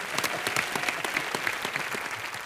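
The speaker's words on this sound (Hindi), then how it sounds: "इनके लिए जोरदार तालियां" Enthusiastic studio audience applause for an actor on a Hindi comedy talk show, a dense steady clatter of many hands sustained throughout at a fairly loud, even level.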